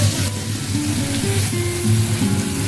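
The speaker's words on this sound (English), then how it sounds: "Fry grated garlic for 1-2 minutes." Grated garlic frying in oil, a continuous even sizzle at close range, with a faint tonal hum running underneath and no talk.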